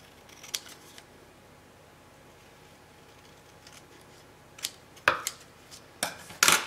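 Scissors snip through craft paper during scrapbooking work, several crisp, close cuts clustered near the end after a quiet, faintly hissing stretch.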